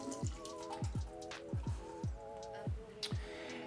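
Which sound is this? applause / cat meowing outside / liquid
liquid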